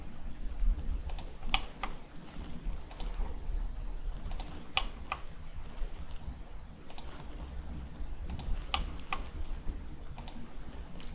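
Mouse clicks while working in Inventor CAD software, sharp isolated ticks arriving singly and in quick pairs at irregular intervals over a low steady background hum, with no talking.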